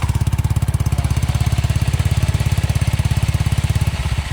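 A CVT motor scooter engine runs close by with a loud, rapid, even putter that holds steady and then eases off near the end, and someone briefly speaks over it.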